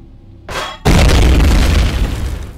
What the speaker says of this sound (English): there's an explosion trigger up here somewhere. I'll let my drone trigger it if it can.